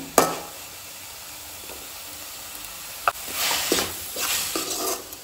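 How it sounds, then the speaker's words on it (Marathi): Onion and tomato sautéing in a pan for Goan oyster sukha, a steady soft sizzle with scraping stirs and a few sharp clinks of a spoon against the pan, fairly close and moderate in level. "मातशे टमाट बी हितून मिक्स करून घेवया आनी 1-2 मिनटांनी कांदो आनी टमाट जो आसा पळय न्हू तो एका वांगडा परतून घेता"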